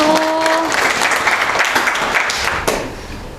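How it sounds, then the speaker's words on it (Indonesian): An audience claps for a group that has just finished a classroom presentation during a teaching exam; the applause is dense and steady for about three seconds before tapering off, and a brief tone and some voices sit underneath it. "kita berikan aplaus untuk kelompok 1"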